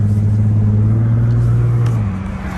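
An Infiniti G35xs fitted with an ISR single exit exhaust revs loudly and close, a deep sustained engine drone that holds steady and then drops off near the end, with no talk.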